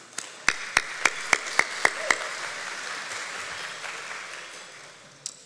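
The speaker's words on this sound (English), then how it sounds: "let's have a round of applause for BSU" Audience applause at a chamber of commerce annual meeting, with a run of loud, evenly spaced claps from one nearby pair of hands over a softer crowd clapping that fades out, then one last clap.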